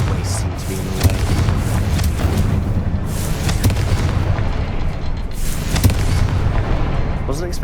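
A Confringo fire spell cast in Hogwarts Legacy, heard as repeated booming blasts and crackling bursts layered over a busy game soundscape.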